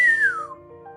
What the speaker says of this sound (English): The old woman whistled.